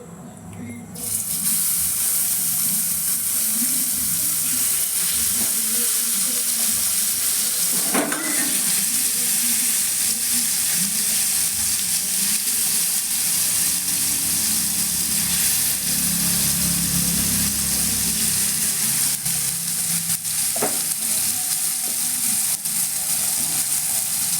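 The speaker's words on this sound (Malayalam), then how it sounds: "ഇനി നമ്മൾക്ക് പാനിലേക്ക് ഇട്ട് വറക്കാം. ഇനി ആവശ്യത്തിന് വെളിച്ചെണ്ണ ഒഴിച്ചു കൊടുക്കാം. ഇനി നമുക്ക് ഫ്രൈ ചെയ്യാം." Fish fries in coconut oil in a pan with a steady, close, loud sizzle that lasts the whole time, and one brief clatter partway through.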